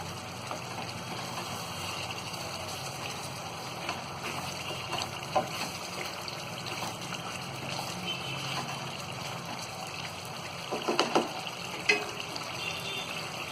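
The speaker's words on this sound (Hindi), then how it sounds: "मसाले को भी मिक्स कर देंगे और ये आलूओं को भी। इसे हम एक बार अच्छी तरह चला देंगे।" Potatoes being stirred with spices in a pan for Kashmiri-style dum aloo, a steady close sizzle and scraping with a few sharper clinks of the spoon toward the end.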